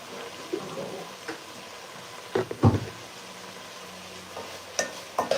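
Shrimp frying in a pan for banh xeo, a low steady sizzle broken by scattered clinks and scrapes of stirring, one louder clatter near the middle, no voices.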